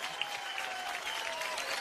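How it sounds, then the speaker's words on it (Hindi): Studio audience at a comedy show clapping for Parineeti, a brief, continuous burst of dense applause at moderate level with no talk over it. "परिणीति के लिए एक बार जोरदार तालियां हो गए।"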